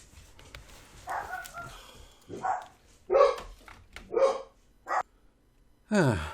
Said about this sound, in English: The mail just arrived. No wonder puppies were barking.